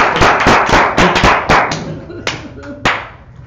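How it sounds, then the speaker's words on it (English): Sparse audience applause at a software conference talk, a handful of sharp, distinct claps from a few people close by, irregular and thinning out toward the end. "Applause optional."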